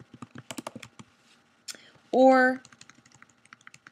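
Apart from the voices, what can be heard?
typing on a computer keyboard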